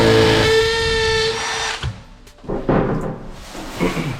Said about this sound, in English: that I want to drill this out with my mason bit.